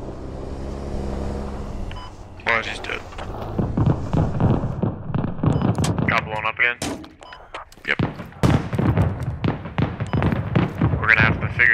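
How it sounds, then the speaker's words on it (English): A land mine detonates under a vehicle in the Squad video game, a heavy blast with rumbling debris early on, followed by engine noise and excited voices talking over the aftermath. "What happened? Like another mine? I hit a mine, yeah."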